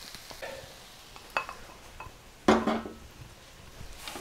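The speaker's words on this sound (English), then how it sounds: "Let's mix in that white sauce. I'll get my favorite rubber spatula to make sure we get it all out of there." Rubber spatula stirring white sauce into rice in a pot, soft scraping with a few sharp knocks against the pot rim, close and fairly quiet.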